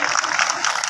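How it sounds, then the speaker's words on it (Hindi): A short burst of loud crowd applause at a mahapanchayat gathering, thick, even clapping from many hands, steady and close. "और जो यहां वहां घूम रहे हैं उनके लिए भी जोरदार तालियां बजाएं।"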